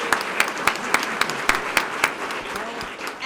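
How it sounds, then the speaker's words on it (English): An audience at a Sarasota police promotion ceremony applauds steadily, with a dense wash of clapping punctuated by sharper individual claps at a fairly regular rhythm throughout. "Let's give all of these people a round of applause"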